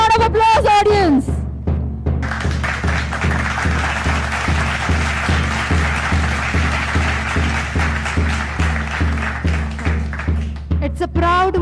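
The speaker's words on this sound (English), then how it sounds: "Give a huge round of applause, audience." Applause from the crowd at a school march past and guard of honour, a steady wash of clapping under a loud announcer's voice, with a strong low rhythmic pulse running beneath it.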